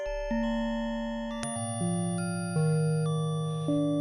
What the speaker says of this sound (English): There are bell tones, which sound like this